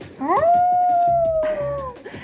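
A person imitates a wolf howl at a Halloween activity: one loud, close, drawn-out howl that rises, holds a long steady tone, then falls away, with no talk over it.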